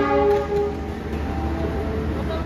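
An Indonesian stainless steel economy-class passenger train, the KA Bogowonto, rolls steadily along the rails with a continuous loud rumble and clatter, and a tonal hum fades out early on.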